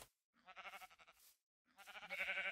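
Sheep in the video game Minecraft bleating twice, each a wavering, quavering baa, the second longer and louder, separated by a brief silence.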